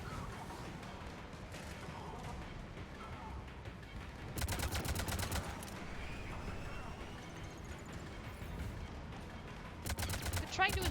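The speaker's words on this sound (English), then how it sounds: "we have these guys over here shooting at us" Sustained gunfire from enemy soldiers in the video game Mass Effect 3, with bursts of rapid shots over a busy battle background, louder volleys around the middle and near the end.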